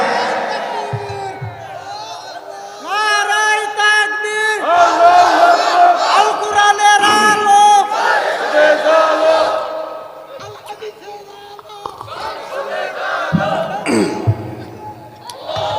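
A large crowd at a Bangladeshi Islamic religious gathering shouts takbir in unison with raised hands, a loud sustained roar of many voices rising in waves over several seconds.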